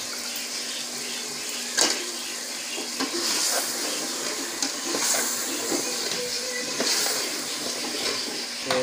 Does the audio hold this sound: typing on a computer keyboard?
no